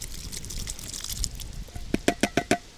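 Canned corn and its juice are tipped into a fishing groundbait mix with peas, giving soft wet sloshing that ends in a quick run of four or five close, distinct plops.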